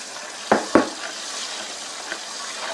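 Peruvian cancha corn kernels toasting in a pan begin to pop, two sharp close cracks in quick succession and a fainter one later, over a steady soft sizzle from the pan.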